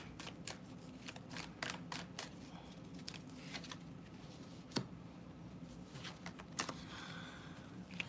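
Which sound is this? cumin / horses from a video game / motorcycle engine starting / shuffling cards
shuffling cards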